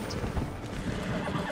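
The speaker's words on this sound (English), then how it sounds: "I think I shot the horse." In a video game, a horse whinnies over clip-clopping hooves, close and fairly loud, amid busy in-game background noise.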